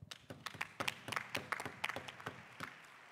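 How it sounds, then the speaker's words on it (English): Scattered clapping from a congress audience at a global trade union forum, fairly quiet and thin, with individual claps standing out irregularly rather than a full roar. "Let's give ourselves a round of applause."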